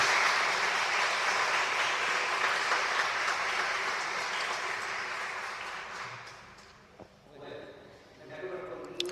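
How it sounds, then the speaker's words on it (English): An audience at a closing lecture of an annual meeting applauds, with sustained, full clapping that gradually fades away, leaving brief quiet and a few faint sounds. "I ask you for a warm round of applause for these people that have mentioned disclosure."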